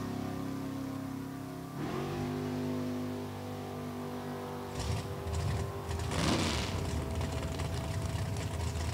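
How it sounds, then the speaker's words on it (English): A Cavalier drag racing car on the track at National Trail Raceway gives a steady mechanical whir and engine drone, then a louder, rougher engine roar swells from the middle of the run to the end. "Phil cruises the Cavalier through, 1097, at about 26."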